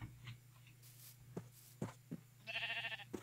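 A Minecraft sheep gives a short, faint bleat near the end, with a few soft clicks and game ambience before it.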